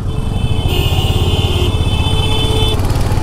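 A Royal Enfield Hunter 350 motorcycle rides through city streets, its engine giving a steady, loud drone throughout with road noise and no talking.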